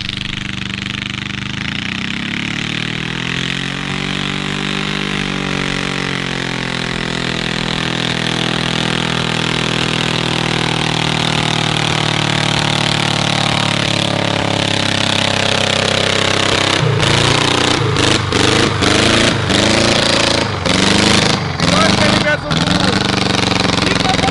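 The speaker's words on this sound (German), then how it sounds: "Der Motor ist gleich fest, glaube ich." A VW Golf engine damaged by running on frying fat runs rough with a loud, steady droning hum that climbs in pitch, then breaks into uneven sputtering, knocking bursts toward the end.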